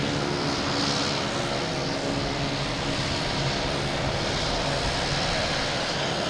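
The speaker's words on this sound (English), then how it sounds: "It's a requirement of all Boutique Air pilots to be able to do this U-turn in an Alaskan Airlines" A Boutique Air aircraft turning around in a parking spot at Boston Logan Airport at night, a constant loud engine drone with whining tones, unbroken and without talk.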